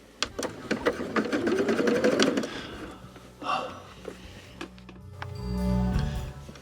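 A sewing machine doing free motion quilting runs in a fast, steady stitching burst for a couple of seconds. Then come a pause, a few scattered clicks and a low hum as the machine slows.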